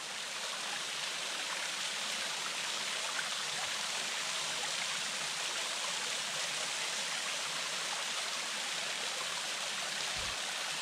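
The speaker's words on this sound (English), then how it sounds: "This is not Princess Falls, this is Julie Lynn Falls." Julie Lynn Falls in Big South Fork, swollen after recent rain, pours in a steady close roar of falling water with no talk over it.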